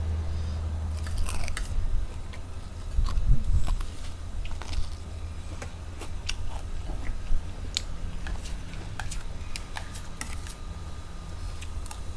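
Crispy fried snails bitten and chewed up close, with sharp crunches and wet chewing bursts spread irregularly across a quiet background, one louder crunch early on.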